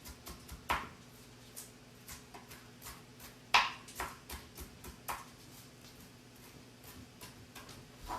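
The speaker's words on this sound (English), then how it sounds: "Just chop the spinach." Knife chopping spinach on a cutting board in a home kitchen: light, irregular taps scattered over several seconds, fairly faint, with no talking.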